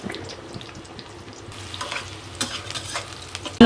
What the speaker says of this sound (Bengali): মাছ আর পেঁয়াজ একসাথে ভাজা হয়ে যাবে